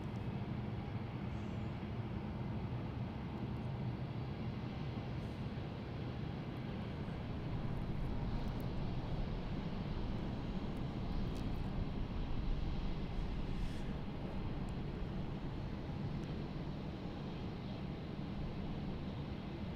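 A United Airlines Boeing 787-9 heavy jet in the new livery, arriving from San Francisco at Melbourne Airport, gives a steady, broad engine roar that holds at a fairly even loudness throughout, with no talk.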